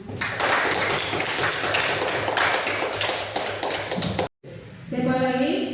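A classroom of students applauds in a dense, steady burst of clapping for about four seconds, then it cuts off abruptly before voices carry on speaking.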